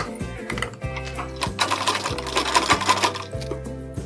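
A sewing machine stitches a blouse in bursts of rapid, rhythmic needle thumping, pausing and restarting a few times, close and clear with no talking over it.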